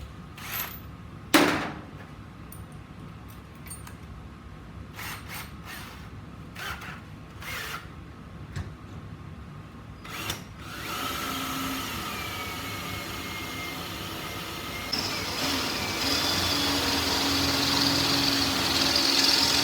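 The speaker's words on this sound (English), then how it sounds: "we'll drill some holes in the square tubing here" A power drill bores holes in square steel tubing, with a few scattered clicks and knocks first, then a steady grinding whine that starts partway through and grows louder as the bit bites, close and with no talk.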